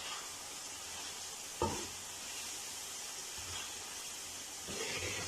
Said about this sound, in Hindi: कुछ देर के ये मसाले के साथ अंडों को भुनेंगे